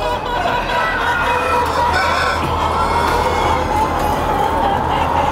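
Caged hens, three to a pen in rows of coops on a poultry farm, cluck loudly and continuously in a dense chorus, with a rooster crowing among them and a voice in the background.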